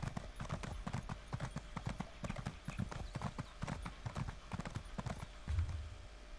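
Steady, regular clip-clop of horse hooves trotting in the video game Elder Scrolls Online, loud and close throughout, with a brief low thud near the end.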